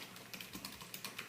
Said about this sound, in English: So up here I'm going to type